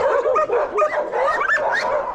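Many dogs barking at a crowded local animal shelter, a dense overlapping chorus of barks, yips and whimpers, close and loud, continuing without pause.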